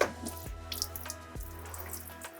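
Fresh water from a hose or tap running into a boat's bilge to rinse out salt water, a steady splashing flow with a few sharp knocks, heard up close with no talking.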